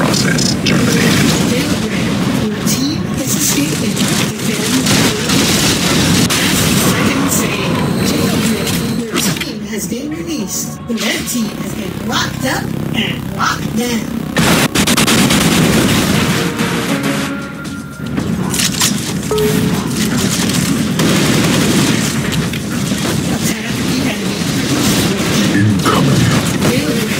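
Heavy gunfire and explosions fill an Unreal Tournament III Jailbreak match, with a dense, loud barrage of booms, blasts and shots running throughout under frequent spoken voices.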